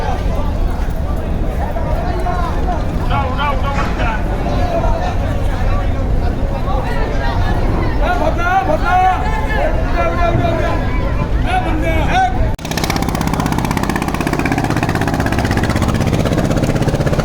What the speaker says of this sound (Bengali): পিরিন চাওলা দশ লঞ্চ আজকে প্রথমেই ছেড়ে যাচ্ছে বরিশাল থেকে ঢাকার উদ্দেশ্যে